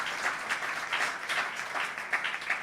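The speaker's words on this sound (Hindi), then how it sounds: "ताली बजाएंगे यीशु मसीह को" A church congregation claps steadily in praise of Jesus, with a dense, continuous applause of many hands. It is fairly close and loud, with small surges in intensity and no voices above it.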